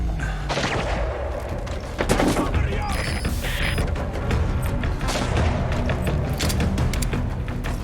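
Gunfire rings out in the Metal Gear Solid V: The Phantom Pain video game, a dense fusillade of overlapping shots and booms that rattles on steadily throughout.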